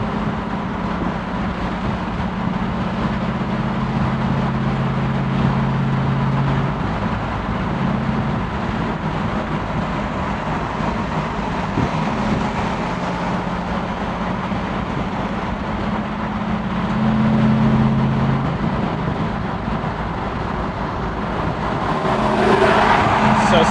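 A supercharged 650 hp LT4 V8 in a 1968 Camaro SS restomod with a six-speed pulls hard in sixth gear from about 60 to 80 mph. It makes a loud, steady in-cabin drone that swells near the end.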